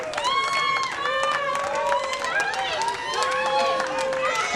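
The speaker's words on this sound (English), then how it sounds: "this crowd erupts" A crowd at a World Poker Tour Tournament of Champions poker table cheers and applauds after a king lands on the river, with loud, dense clapping and whoops continuing under overlapping excited voices.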